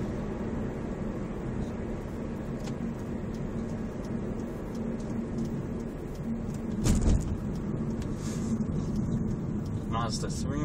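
A Mazda 3 car driving along, heard as a steady low engine and road hum from inside the cabin, with a brief louder swell partway through.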